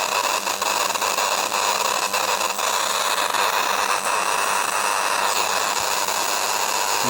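Mini argon-gas ion drive under about 4 kV DC gives off a steady, dense hiss with a faint electrical hum underneath, continuous and unchanging throughout and close by, with no voices.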